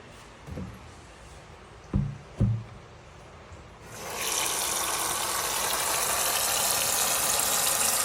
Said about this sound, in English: So let's get some water in here.